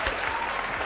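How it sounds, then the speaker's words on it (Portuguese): Dense, steady clapping from a small audience fills the whole moment, loud and close, with no voices standing out. "Palmas pro Gage!"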